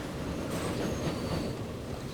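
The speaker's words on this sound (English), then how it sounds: "Oh, that's another passenger train." Passenger train rolling past in Transport Fever 2, a steady close rumble of wheels on rails with faint squeal and clatter, no talking.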